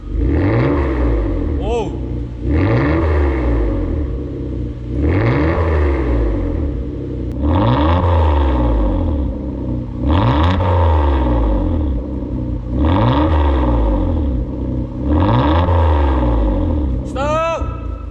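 Loud exhaust of a new Hyundai Grandeur, LPG-powered, with its variable exhaust valve open, revving again and again, about six deep throttle bursts in a steady rhythm with heavy rumbling between them.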